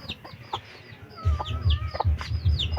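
A hen clucks close by in short, repeated bursts, with low thumping and shuffling sounds from the poultry underneath.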